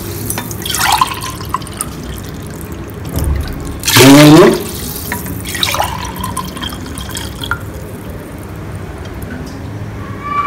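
Water is poured from a tumbler into a pot of rice for plain biryani, giving a few splashing gushes, the loudest in the middle, amid soft kitchen clatter.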